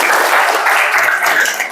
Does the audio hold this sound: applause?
yes